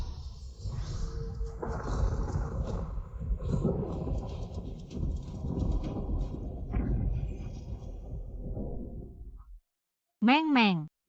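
Loud rumbling thunder and crackling roar from a world-destroying lightning attack in a dubbed fantasy drama, mixed with dramatic effects, cut off by a brief sweeping tone at the end.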